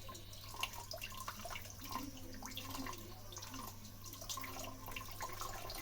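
Tap water runs steadily over beef tripe as it is washed in a sink, a continuous close splashing and trickling with small drips and handling sounds, and no talk.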